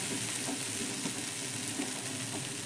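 Vegetables sizzle steadily in an open pan while being stirred around, a close, continuous frying hiss with faint soft scrapes and no voices.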